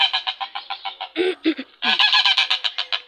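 Young chickens and roosters chirp and cluck in a rapid, continuous chatter, close by, with a few lower squawks breaking in midway.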